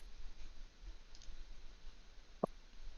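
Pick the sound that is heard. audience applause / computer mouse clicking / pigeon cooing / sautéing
computer mouse clicking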